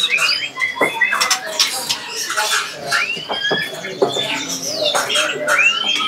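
White-rumped shama (murai batu trotol) song with thin whistled phrases and rising chirps recurring across the clip, close and moderately loud over a cluttered indoor background.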